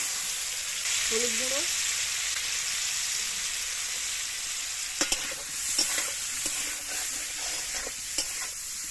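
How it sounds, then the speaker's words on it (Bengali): Parboiled potatoes fry in a mix of white oil and a little mustard oil. A steady sizzle runs throughout, with a few stirring clatters later and brief speech near the start. "আলুগুলো দিয়ে ভেজে নেব।"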